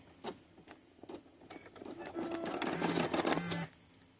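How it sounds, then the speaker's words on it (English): An embroidery machine sews a placement stitch on an in-the-hoop ID badge, giving a close series of rapid mechanical ticks that build into a steady whirring burst, then stop. "First thing is going to be your placement stitch that we're going to stitch down here."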